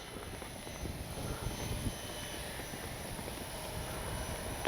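An FMS P-51 Miss America radio-controlled model plane with gear retracted drones steadily overhead at moderate distance, a continuous engine hum with wind noise and no talk.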